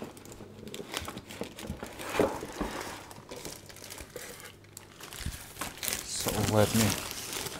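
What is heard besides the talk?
removing plastic bag from FiiO K9 DAC packaging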